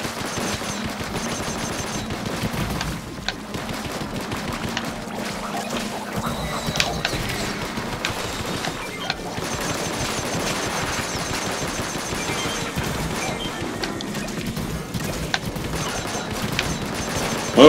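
The Grizzco Blaster fires repeatedly in a video game, a dense, continuous stream of rapid shots and blasts running the whole length over busy game sound, loud and close, with no talking.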